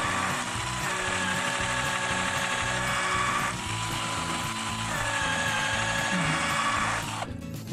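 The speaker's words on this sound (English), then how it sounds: "Go ahead and drill a pilot hole." A steady, high-pitched power drill whirs continuously for several seconds, drilling a pilot hole into a tree, its motor tone dipping briefly under load before cutting off near the end.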